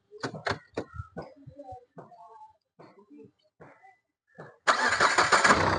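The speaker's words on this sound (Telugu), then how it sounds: "ఇంజన్ కూడా స్టార్ట్ చేసి చూపిస్తాను, చూడండి సార్ ఒకసారి" A 2015 Renault Duster RxL diesel engine cranks and catches, bursting into a loud, steady clatter near the end after someone talks over a quiet interval.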